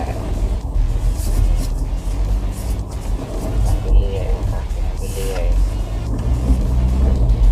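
A new Ford Ranger pickup in four-wheel drive churns its wheels on a slippery road, making a loud continuous engine rumble with spinning tyre noise throughout while someone talks over it.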